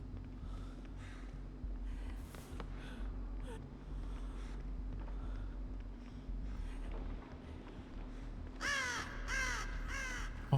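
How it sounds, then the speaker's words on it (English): Several crows caw in a Dead by Daylight match, scattered calls through a low droning game ambience before a loud cluster of harsh caws near the end. "Oh, the crows are so loud."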